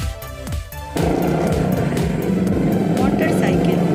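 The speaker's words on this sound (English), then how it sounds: "truck." A truck sound effect: after a softer opening, a heavy, loud engine roar kicks in and rumbles steadily to the end.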